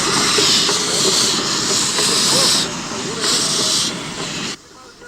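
A Spanish narrow-gauge steam train sends out loud, hissing bursts of steam over a low rolling clatter of wheels, pulsing in a few long surges before cutting off abruptly.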